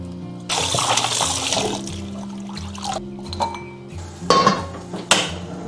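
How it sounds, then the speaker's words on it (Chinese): Boiled pork ribs for a sour cabbage stew rinsed clean under water in a kitchen: running water splashes and gushes in bursts, with pots and utensils clinking and knocking close by, and no talk. "捞起来清洗干净。"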